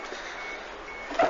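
A steady electronic warning beep sounds inside a car cabin during an engine rebuild project, thin and continuous, followed by a brief louder tone at the end.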